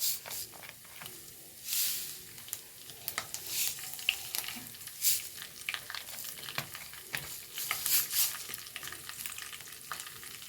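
Mustard seeds crackle and hiss in hot oil for a thoran, a close and busy sizzle with frequent irregular bursts of popping throughout.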